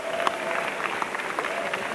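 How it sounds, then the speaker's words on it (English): An audience at a Star Wars fan gathering claps and cheers for Arie Dekker, Chewbacca's stunt double, in a dense, steady burst of applause with scattered louder claps throughout. "Give him a cheer."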